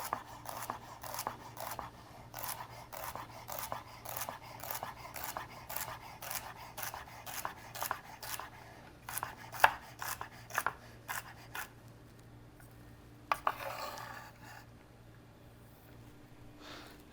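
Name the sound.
knife chopping celery into small dice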